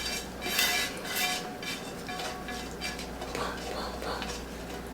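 Sweet potato yams being tossed with sugar in a bowl, with soft repeated scraping and clinking of a utensil against the bowl at close range, fairly quiet and steady throughout.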